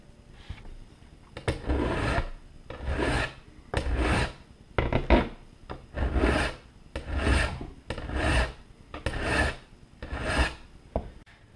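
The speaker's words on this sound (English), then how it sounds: "And now I'm gonna just sharpen up the points." Close, rhythmic rasping of a metal file sharpening the points on a climbing boot, about ten even strokes with short pauses between, each a rough scraping burst, with no talking.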